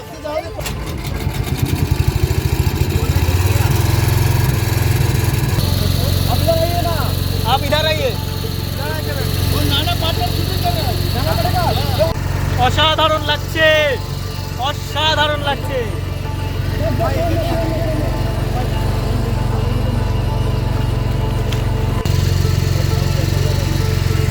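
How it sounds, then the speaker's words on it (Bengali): A motorboat engine on the Ganges at Benaras drones loud and steady through the whole stretch, a low continuous hum with a rattling edge, while people talk over it close by. "আমাদের নৌকা চলতে শুরু করেছে"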